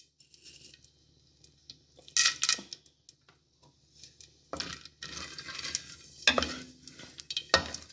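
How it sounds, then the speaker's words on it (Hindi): Edible gum pieces roast and pop in hot ghee over a low flame for gond laddu, with scattered crackles and sizzling bursts plus metallic stirring scrapes, getting busier and louder toward the end. "इस पे मैं करूँगी जो है गम्स जो है उसको मैं पॉप करूँगी, भूनूँगी हल्की आंच पे, थोड़ा थोड़ा करके।"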